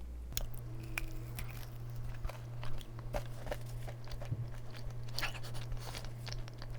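Close-up biting and chewing of a crispy bakery dessert: repeated sharp crunches and crackles at an uneven pace over a low steady hum, with no talking.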